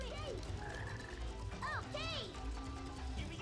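A frog croaking in the video game Sonic Heroes, a few short warbling croaks amid game sound effects, with a voice chiming in faintly underneath.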